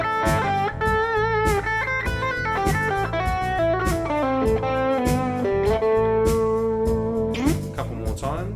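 Electric guitar plays a blues lick with added Dorian modal notes, a busy run of bent and sliding single notes over sustained tones, loud and close without talk, turning faster and more shred-like near the end.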